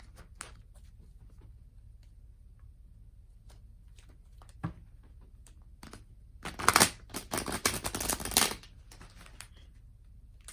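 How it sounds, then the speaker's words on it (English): Tarot cards shuffled by hand at close range, quiet scattered ticks building to a dense burst of riffling and flicking near the end, with no talk. "I just got to make sure that I'm shuffling and not mixing up my deck."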